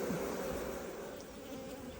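Honey bees buzz around an open hive in a steady, close, droning hum that holds evenly throughout.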